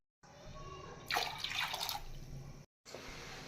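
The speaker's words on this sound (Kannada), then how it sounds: "ಒಂದು ಕಪ್ ಬೇಳೆಗೆ ಮೂರು ಕಪ್ ಆಗೋಷ್ಟು ನೀರು ಸೇರಿಸ್ತಾ ಇದ್ದೀನಿ" Water pours into a pressure cooker holding washed lentils and potato for pepper garlic sambar, a steady splashing stream that swells briefly, breaks off, then resumes.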